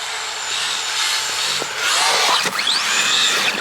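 ARRMA Big Rock 3S RC truck running at full throttle in snow, its electric motor whining loudly and steadily and rising and falling in pitch as the truck speeds up and slows down.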